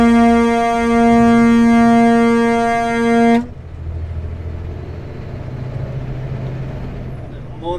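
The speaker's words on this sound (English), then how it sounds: "the air horn usually motivates deer." A loud, sustained truck air horn blares for about three seconds on Highway 5A between Merritt and Princeton, then cuts off abruptly, leaving a low engine rumble and road noise.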